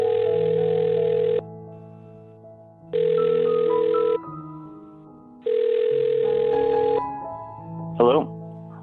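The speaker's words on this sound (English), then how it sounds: "I'm going to dial this phone number right now." Telephone handset on a call: a steady dial tone, then repeated ringback tones in long bursts with pauses, ending with a brief click as the line connects and a voice begins.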